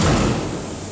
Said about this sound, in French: Je ferme les portes.